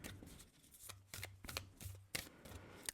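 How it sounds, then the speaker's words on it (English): Oracle cards from a Divine Feminine deck are shuffled up close in a quiet room, giving repeated soft riffling bursts and papery flicks over about three seconds with no talking. "let me shuffle this here"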